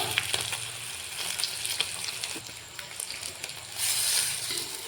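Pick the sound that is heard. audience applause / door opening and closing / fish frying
fish frying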